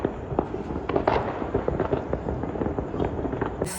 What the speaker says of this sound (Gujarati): એવી રીતના ફટાકડા ફૂટી રહ્યા છે બોસ